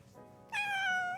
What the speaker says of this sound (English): I'm waiting for her to meow because I want her to meow right into the mic.